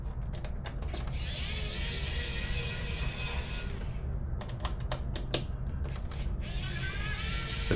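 Screws being undone on a PS4 Pro console with a driver kit produce rapid, irregular clicking and scraping bursts, close and fairly quiet over a steady background hiss.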